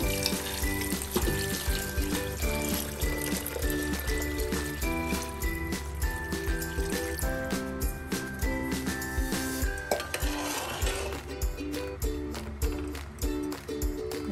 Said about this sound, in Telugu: నేను రెగ్యులర్గా వేసానంత వాటర్ వేస్తున్నాను